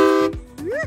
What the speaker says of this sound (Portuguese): Dá uma buzinada aí pra galera.